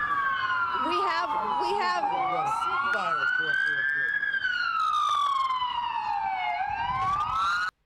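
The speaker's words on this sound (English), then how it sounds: "I wonder if those sirens are really necessary." Several police sirens pass nearby, their wailing tones sweeping up and down and overlapping for several seconds before cutting off. Faint voices can be heard underneath.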